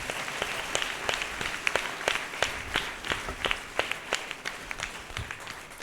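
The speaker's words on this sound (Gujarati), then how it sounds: "તો જોરદાર પ્રભુના મહિમાના માટે તાળીઓ પાડો." Congregation at an Easter resurrection service clapping for the glory of God, a busy run of sharp, uneven handclaps that stays moderately loud for a few seconds with no one talking.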